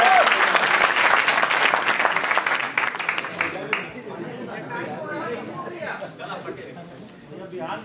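An audience at a BHU poetry gathering bursts into loud, dense applause for a few seconds, then the clapping thins out into scattered claps and crowd chatter, with voices talking over it.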